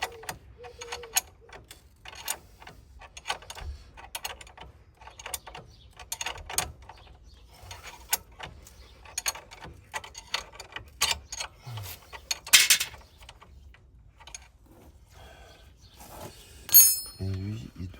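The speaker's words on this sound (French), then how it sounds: "On serre la vis du triangle." Ratchet wrench clicks in quick bursts as a wishbone bolt is tightened on a Citroën C5 / Peugeot 407 front suspension during a wheel bearing replacement, with scattered metallic taps and faint muffled talk in a quiet workshop.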